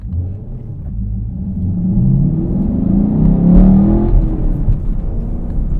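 A Chevrolet Camaro SS launches and accelerates, its engine rumble rising in pitch and loudness over several seconds before easing slightly, heard from inside or near the car with no talking.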